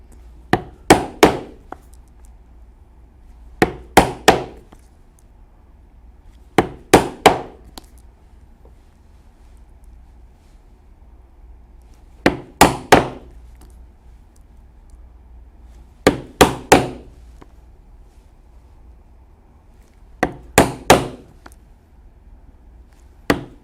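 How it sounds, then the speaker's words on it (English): Sharp hammer blows on a punch cutting 1/8-inch rivet holes in leather for biker saddlebags, struck in quick clusters of two to four loud, close hits separated by short pauses. "We will punch holes here for rivets, which will be 1/8" holes."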